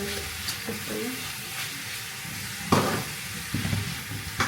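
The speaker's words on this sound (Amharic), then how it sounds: "ሽንኩርት፣ ዘይት፣ ባሮ እና ካሮቱን አንድ ላይ እየበሰለ ነው።" Onion, oil, leek and carrot frying together in a pan for lasagne, giving a steady close sizzle with occasional louder stirring scrapes and bursts, no talk over it.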